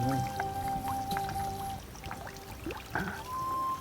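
Water gurgles and trickles steadily from a spring, with drips and splashing close by and a few faint tonal sounds drifting over it.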